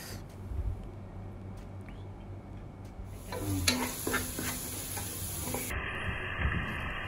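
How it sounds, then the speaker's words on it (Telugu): Onions frying slowly in ghee with a touch of salt, a soft steady sizzle broken by a few stirring scrapes and clinks, faint and close, with a high tonal hum joining partway through. "ఘీలో మొత్తం ఆనియన్స్ వేగితే టేస్ట్ వస్తుంది."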